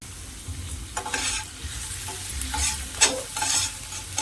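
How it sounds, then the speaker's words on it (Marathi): Finely chopped onion frying lightly in a little oil, stirred in the pan; soft crackling sizzle with repeated scraping stir strokes, close and steady with no talk. "इथं बारीक चिरलेला कांदा आणि या हा कांदा आहे ना आपल्याला हलकासा भाजून घ्यायचा"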